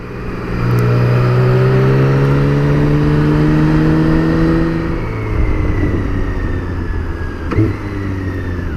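A BMW K1600GT six-cylinder touring motorcycle accelerating hard through the gears, a loud close engine note rising in pitch and dropping at each quick-shifted upshift, with a faint rush of wind and no talk.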